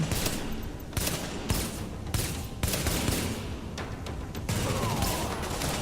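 Bursts of automatic gunfire in The Division, a boss fight on hard mode in the Broadway Emporium: loud rapid volleys broken by short pauses, close and continuous with no talk.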